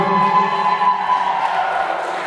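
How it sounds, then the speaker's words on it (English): Wedding reception guests cheer and applaud the mother of the bride as she is brought onto the dance floor, with a loud, steady crowd roar and voices calling out over continuous clapping. "Everyone give a big round of applause to Jana, mother of the bride."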